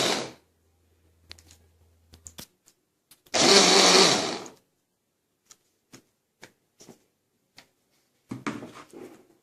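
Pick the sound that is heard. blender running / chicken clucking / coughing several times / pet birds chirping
blender running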